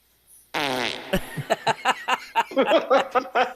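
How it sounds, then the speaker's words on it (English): A long, loud, buzzing fart noise effect from a game's intro, starting half a second in, followed by a burst of rhythmic chuckling laughter. "We just need to hear EA Sports followed by the fart noise."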